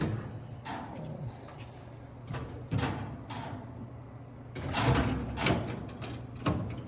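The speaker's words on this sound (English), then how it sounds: "So when the door is shut," Metal door of a 1930s Rowe Imperial cigarette vending machine being shut, a few quiet knocks and clunks spread across the clip, the loudest burst near the end, close by with no talk.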